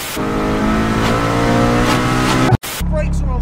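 A Honda car launching hard on launch control, a loud sustained engine roar with steady harmonics that cuts out abruptly, then settles into a lower idle.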